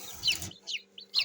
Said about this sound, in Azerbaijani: hələlik 5 dənə cücəmiz var